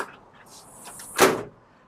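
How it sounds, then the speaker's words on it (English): Screen door swinging open on a pneumatic closer, with a soft hiss of air and a sharp thud near the end as it shuts; close and brief, no talking. "now when we open the door"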